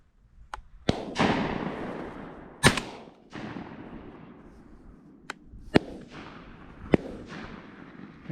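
Shotgun blasts during a South Georgia dove hunt: several sharp, loud outdoor reports spaced a second or more apart, each with a rolling echo tail, against open-air background.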